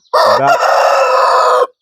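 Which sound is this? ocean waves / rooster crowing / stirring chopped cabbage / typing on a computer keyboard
rooster crowing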